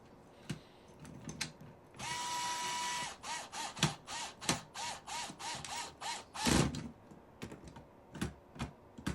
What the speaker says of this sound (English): And then screw that into the end of the accumulator track piece.